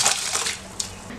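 Soaked jeeraga samba rice tips into a pot of boiling water for a mutton dum biryani, making a short rushing splash and hiss that quickly settles into a softer bubbling wash.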